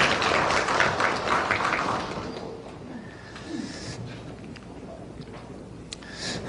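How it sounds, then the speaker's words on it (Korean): A church chapel congregation applauds the choir and orchestra, a brief burst of clapping that fades after about two seconds into quiet room tone with faint scattered sounds. "격려의 박수 하겠습니다"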